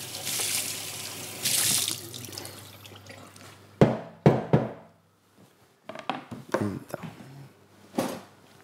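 Tap water runs into a cooking pot in a kitchen, a steady gush in two bursts, followed by sharp knocks and clatter of the pot and utensils being handled.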